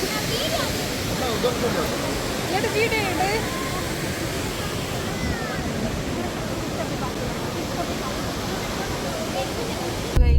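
Hogenakkal waterfall pouring in a dense, constant roar of rushing water that fills the whole scene, with faint birdsong and a murmur of voices beneath it.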